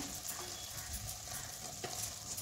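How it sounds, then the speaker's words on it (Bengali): Lau chingri, a gourd and shrimp curry, being stirred in a pan, with a soft, continuous sizzle under repeated scraping strokes of a spoon, close and moderately quiet. "এটাকে একবার নেড়ে দেব"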